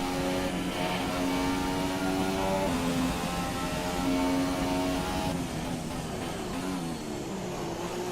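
F1 2017 race car engine with a damaged gearbox missing fourth gear, a steady loud high-pitched whine that holds and shifts in pitch as the car runs, with no voices.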